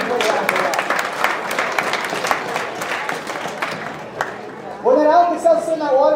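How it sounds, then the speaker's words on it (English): Audience applause fills a chemistry demo night hall, dense clapping and crowd noise for about five seconds before a voice cuts in over the fading claps. "Let's give them a big round of applause."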